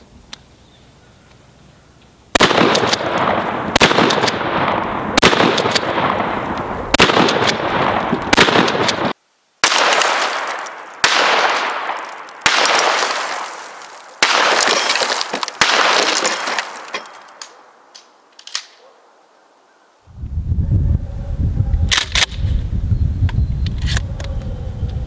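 A 20-gauge Remington 870 youth shotgun fires repeatedly at cinder blocks outdoors, about ten loud, sharp blasts at irregular intervals with echoing tails and debris, followed by a lower rumbling stretch at the end.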